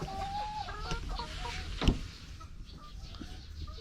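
Four-month-old Dekalb Brown chickens clucking and calling in short bursts, with a brief louder squawk midway, over a steady background hum.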